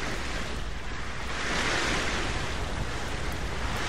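Steady wash of water in the zombie survival game Dead Island Riptide, a continuous broadband surf-like rush that stays even and fairly loud throughout, with no voices.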